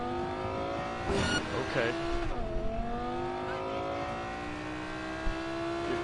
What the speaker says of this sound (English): I shouldn't be driving on the sidewalk.